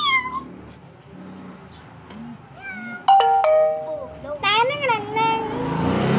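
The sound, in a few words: person imitating cat meow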